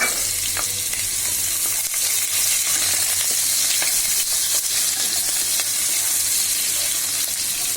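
Onions, green chillies and bay leaves fry in hot oil, with panch phoron, for a vegetable curry, producing a loud, continuous close-up sizzle that stays bright and even with faint stirring underneath.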